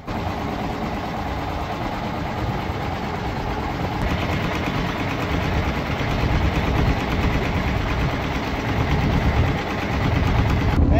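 A fishing trawler's engine drones steadily as the boat pulls away from a fishermen's camp on a Sundarbans char, a continuous close low rumble with vibration and no voices.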